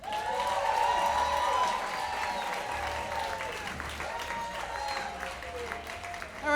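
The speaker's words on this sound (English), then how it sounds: "A big round of applause for Donna St. Jean." An audience at a comedy bootcamp show applauds, with a dense wash of clapping mixed with cheering and voices that swells early and gradually tapers off.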